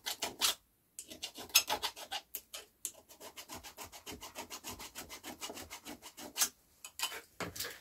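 Scrap copper being scrubbed clean, a rapid series of rasping, scraping strokes close by, coming in bursts with short pauses between them.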